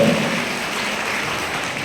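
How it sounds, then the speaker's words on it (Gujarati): A school audience at a 79th Independence Day prize ceremony at Shri A.P. Vidyamandir, Rohishala, claps in steady, dense applause that fills the short moment at an even level. "જોરદાર તાળીઓ પાડીએ"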